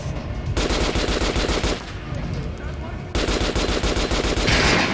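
Rapid automatic gunfire from Metro Last Light Redux, aimed at an armored enemy, with dense bursts that pause briefly and resume, loud and close throughout.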